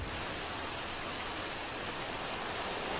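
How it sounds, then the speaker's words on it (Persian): Heavy rain falls steadily, a dense, even hiss with no pauses and no voices, heard outdoors in a rural setting. "بارون حالا حالا ها بند نمیاد"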